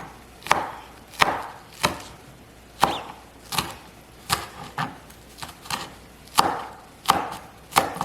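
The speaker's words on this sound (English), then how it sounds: "And then I'm cutting the green onion in half so that the pieces are even smaller." A knife chops green onion on a cutting board in a run of sharp, close, distinct strikes with an uneven rhythm, each one clear and percussive.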